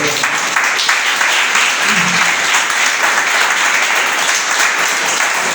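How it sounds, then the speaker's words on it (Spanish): A church congregation gives a loud, dense round of applause that stays steady and continuous for several seconds with no break. "¿Cuánto le damos un aplauso al Señor?"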